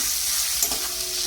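Spice paste with Kashmiri chili powder fries in a pan with a steady, close hiss, being fried well before chicken is added.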